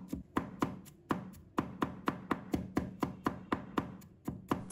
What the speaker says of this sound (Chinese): 切成蒜末